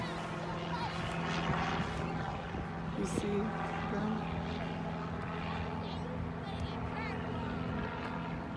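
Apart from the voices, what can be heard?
airplanes flying over a park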